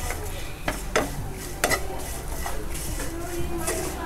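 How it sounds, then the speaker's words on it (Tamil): Potato and raw banana slices with salt being stirred in a frying pan, a spoon scraping and knocking against the metal in uneven strokes over a soft, steady sizzle. "கொஞ்சமாக வந்துட்டு உப்பு சேர்த்து இதை வந்து நல்லா கலந்து விடுறேன்"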